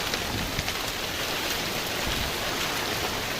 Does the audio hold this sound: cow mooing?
no